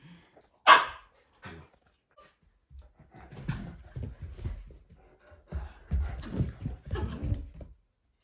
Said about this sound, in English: This guardian barking here is